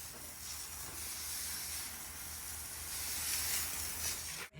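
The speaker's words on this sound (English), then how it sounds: "the boss and owner is rinsing out the floor after he" Water from a hose sprays steadily across a freshly finished concrete garage floor, a soft continuous hiss with a low rumble underneath, ending in a brief sharp knock.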